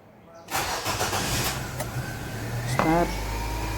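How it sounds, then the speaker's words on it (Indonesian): A Nissan Grand Livina engine cranks and fires, settling into a steady idle, with a brief whirring rev near the end and someone talking over it. "Setelah itu kita coba starter mesin."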